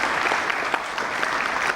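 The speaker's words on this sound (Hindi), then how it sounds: "अब फिर देखो आपकी तालियां बज सकती हैं।" An audience breaks into steady, dense applause, with close, continuous clapping and no talk over it.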